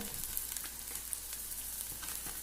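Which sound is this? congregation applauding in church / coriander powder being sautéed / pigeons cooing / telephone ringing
coriander powder being sautéed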